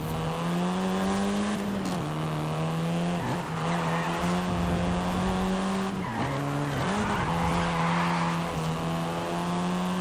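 A seventh-generation Volkswagen Golf R in Forza Horizon 5 holds a loud, steady engine drone while its tyres squeal and skid in long continuous stretches, with brief dips as it shifts or slides through corners.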